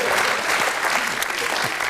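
Studio audience applause on a TV panel game show, a dense, steady wash of clapping that holds at full strength for the whole stretch with no pause.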